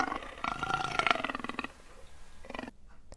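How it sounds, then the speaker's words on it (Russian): A wild animal roars in a rough, growling burst lasting about a second, then gives a shorter second roar before falling silent. No one speaks. "Roar – рычать."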